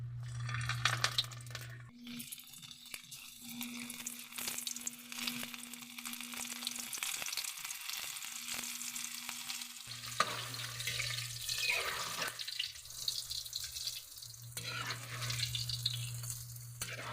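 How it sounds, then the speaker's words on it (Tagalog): Anchovies (dilis) frying in hot oil in a home kitchen: steady broadband sizzling and crackling throughout, with a low steady hum running underneath, no talking. "Magsisimula tayo guys sa pagprito."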